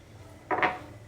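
Cumin seeds pounded in a stone mortar: one short pair of dull knocks, close and fairly faint, with no talking.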